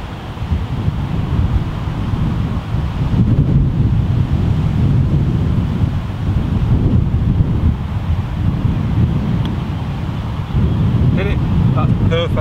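Wind gusts across a golf course, rumbling and buffeting the microphone in a continuous loud roar throughout.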